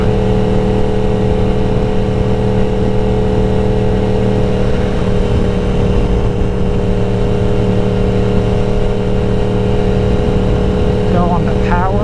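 BMW M1000RR superbike under hard power at around 170, a steady loud engine drone with strong harmonic bands sustained throughout, wind rush mixed in, and a brief rising whine near the end.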